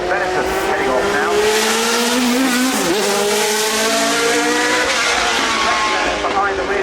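Benetton Formula 1 race car pulling away loudly, its high-pitched engine revving up through the gears, near and then receding, with a brief pitch dip midway; a voice speaks over it.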